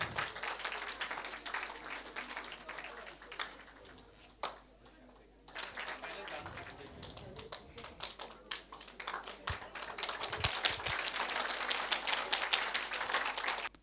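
Audience applause at a Sanskrit quiz event during the Mahakavi Magh festival, a sustained wash of many hands clapping that dips briefly, then swells again, steady and moderately close.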